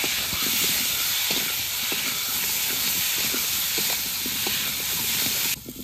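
Potatoes frying in a pan with dried and green chilli paste for a Bengali hilsa curry, a steady broad hiss with scattered crackles throughout, close and continuous, cutting off abruptly near the end.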